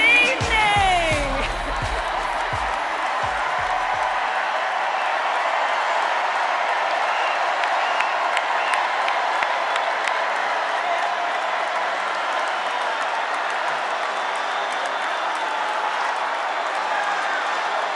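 A large crowd at a political rally applauds and cheers in a loud, sustained roar that swells after a brief moment of speech at the start and carries on unbroken.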